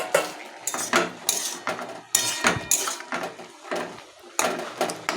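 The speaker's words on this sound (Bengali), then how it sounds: "তো আবার ঢাকনা খুলে দিচ্ছি।" A metal pot lid is lifted off greens simmering on the stove, with sharp clinks and clatters of metal on metal in an uneven rhythm, close and fairly loud, with a few soft scrapes between.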